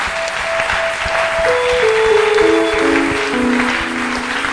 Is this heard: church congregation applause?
yes